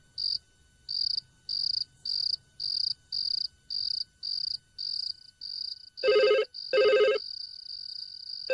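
A telephone rings at night in a steady repeating pattern of short electronic trills, loud and close in a quiet room, ending with two stronger, fuller rings.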